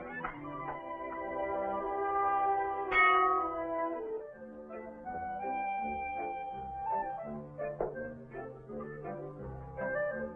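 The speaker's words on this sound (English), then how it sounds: "must you ring the bell so loud?" A bell is rung loudly indoors in a 1945 serial scene, a sustained ringing tone that rises to a peak around three seconds, then continues with lingering overtones and softer repeated strikes alongside background music.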